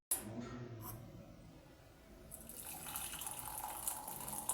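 Tea pours steadily from a flask with a bright splashing trickle, starting faint and growing louder and fuller toward the end, close to the listener.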